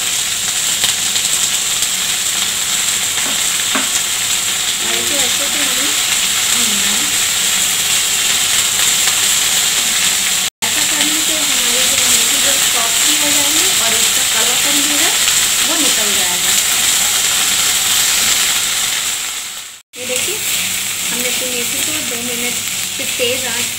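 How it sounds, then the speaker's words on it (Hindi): Fenugreek leaves frying in a little oil over high heat, a loud continuous sizzle and hiss with soft stirring scrapes throughout, close up and without talk. "तेज़ आंच पे इस तरह से हमें भूना है"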